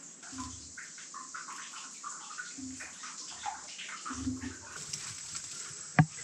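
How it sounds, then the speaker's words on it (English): Water pours and trickles steadily into a barred, abandoned mine entrance in the wilderness, a continuous splashing rush with occasional gurgles and one sharp knock, while a person talks intermittently nearby. "There's a lot of water pouring into this one."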